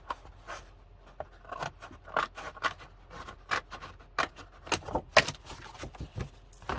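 Scissors cut open the sides of a paper flower press booklet in a junk journal craft, making a close series of quick, irregular snipping clicks and crinkles.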